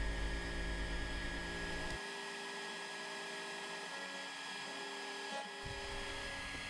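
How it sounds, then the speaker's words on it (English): A CNC router carving detail with a 60-degree V cutter bit gives a steady whining hum with fixed tones. A low rumble underneath drops out partway through and returns near the end. "This is a 60-degree V cutter, and this will detail everything for me."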